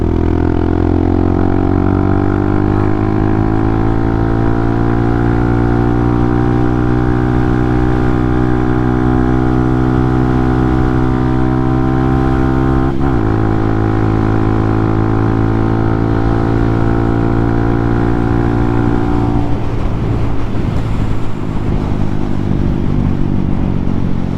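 A Hawk 250 motorcycle with a freshly fitted chain rides at a steady pace, its engine droning with layered harmonics. The drone shifts once partway through, then eases off and fades out near the end.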